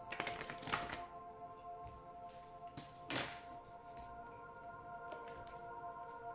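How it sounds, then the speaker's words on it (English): Soft papery shuffling and light tapping of oracle cards, with a couple of brisker riffles standing out against a quiet background. "Please think of your question as I shuffle the cards."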